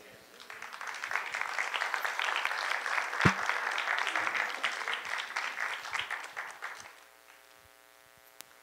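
A conference audience bursts into applause after talks on the Church and the Pope, a dense, fairly close clapping that swells for about six seconds then fades, followed by a few quiet sounds.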